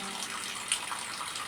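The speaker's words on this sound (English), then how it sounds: "In the kitchen, nature's stream of water turns into household tap" Water runs from a household kitchen tap in a steady, close, continuous stream of hissing splash for the whole moment.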